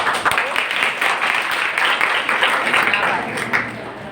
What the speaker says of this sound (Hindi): आप लोगों की तालियां जो ना जरा कमजोर पड़ गई हैं, जोर से बजाएं